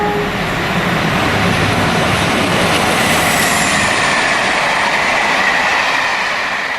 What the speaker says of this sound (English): 47580 heads north at Rugeley with the Lakeland Moorlander to Carlisle.